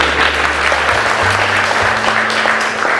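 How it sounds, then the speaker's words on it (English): An audience applauds a class skit at a school event, a dense continuous round of clapping heard close and loud, with a low hum running underneath. "Let's give a good round of applause for Alvin."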